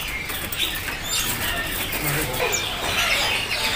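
Caged songbirds, including young and fledgling orange-headed thrushes and red thrushes, chirp at a bird market kiosk, with faint tweets and wing flutters under a noisy market background.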